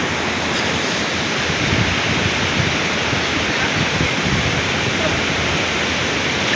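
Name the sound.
waterfall rushing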